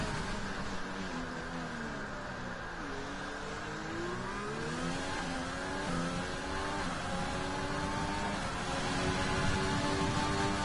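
Racing-game race car engine on a qualifying lap at Spa, a continuous high-pitched whine that rises and falls through gear changes and throttle lifts, close and steady with no voices.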